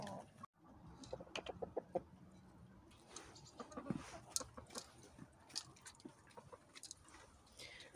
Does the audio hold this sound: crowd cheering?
no